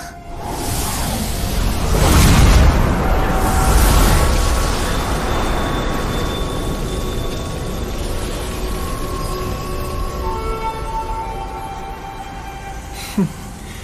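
An animated explosion blasts a stone coffin to pieces: a deep booming roar with rushing whooshes peaks early, then a long rumbling debris tail fades under faint ringing tones, ending with a sharp click.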